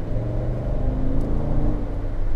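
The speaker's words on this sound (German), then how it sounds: "Und dann hört ihr den V8 schon viel aggressiver brüllen." BMW X7 V8 engine roaring under full throttle, a loud, steady low-pitched drone with a rich rumbling growl that holds without letting up.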